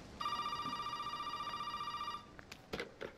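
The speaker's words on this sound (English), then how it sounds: "Why is the phone ringing?" A telephone rings in Resident Evil 7: Biohazard, one sustained trilling electronic ring lasting about two seconds, followed by a few faint clicks and knocks.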